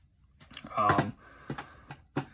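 Mechanical computer keyboard being typed on in a short burst of clacky keystrokes, close and fairly loud, with a few separated clicks trailing off.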